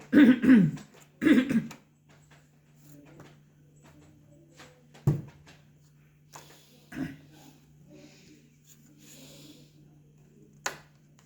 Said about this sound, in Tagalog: Balik ka naman ng ubo.